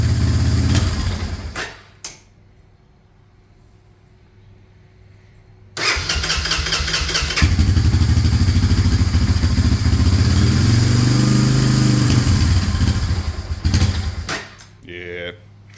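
A 2000 Honda 300 engine, a carburetor rebuild after ten years of sitting, cranks and fires, then settles into a loud, steady close idle with a few revs before cutting off, and a brief voice heard near the start.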